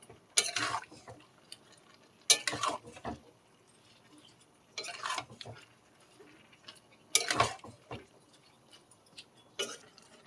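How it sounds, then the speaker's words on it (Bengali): Pumpkin greens are stirred in a cooking pan, producing five short bursts of metallic scraping and clinking, evenly spaced with quiet gaps between them and heard close up. "কুমড়ো শাকটা এবারে আমি একটু নেড়ে দেবো।"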